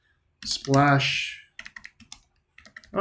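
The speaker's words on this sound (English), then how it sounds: "you end up typing it in here in the search area in Google" Typing on a computer keyboard, a quick run of light clicks in short bursts, following and interrupted by a person speaking close by.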